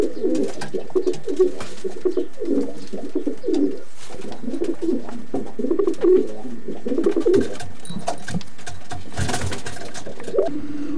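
Racing pigeons cooing steadily inside a loft, a dense run of soft, rolling low coos from several birds at close range, with no talk over them.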